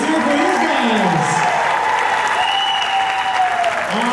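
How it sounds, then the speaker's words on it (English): A high school audience applauds the school band in a steady, sustained wash of clapping, with a voice briefly audible over it. "Let's have another round of applause for our band"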